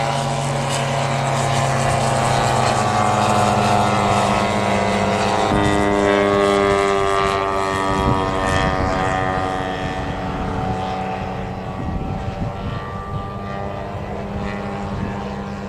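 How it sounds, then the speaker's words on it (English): A model Siemens-Schuckert propeller plane drones past at a model air show, its buzzing engine tone shifting pitch as it passes, loud and continuous for the whole stretch. "The Siemens Schuker, as you can see as it comes around, although it's a dumpy little aeroplane"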